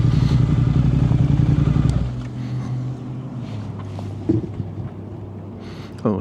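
A motorcycle ridden on a cold day of about 40 degrees, its engine droning steadily for two seconds before giving way to softer wind rush and faint scuffs.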